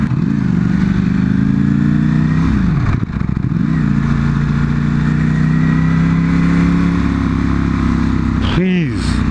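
A Porsche 911 Carrera T passing during a rally, its engine droning and revving with rising and falling pitch, loud and close, with another sweep near the end.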